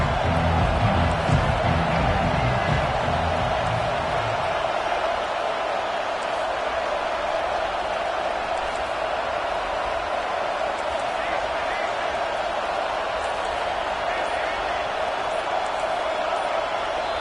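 A stadium crowd at a Chargers football game roars as one steady, loud wash of cheering that fills the space with no pauses.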